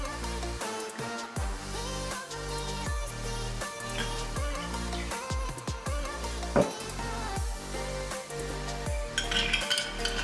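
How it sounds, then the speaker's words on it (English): A Rob Roy cocktail of Scotch and sweet vermouth is stirred with ice, as a bar spoon clinks and rattles rhythmically against the glass, fairly close and steady, with no talk. "And we're gonna stir it."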